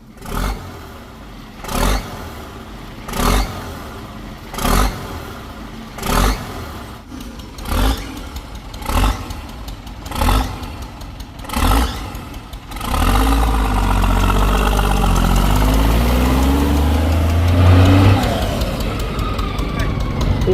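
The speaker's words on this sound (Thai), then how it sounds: "8210เทอร์โบ อันนี้เป็นเทอร์โบเดิมนะครับ นี่ก็ใส่สปริงซิ่ง" A large 8210 truck with its original turbo and racing springs fitted is revved in a series of about ten sharp, evenly spaced bursts, then settles into a loud, continuous, rumbling engine roar that rises briefly near the end.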